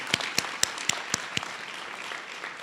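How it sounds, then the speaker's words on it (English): Graduates of an anesthesiologist assistant program applaud at their cohort celebration, with about six sharp, evenly spaced claps standing out over a steady background of clapping that gradually fades. "Give yourselves a round of applause"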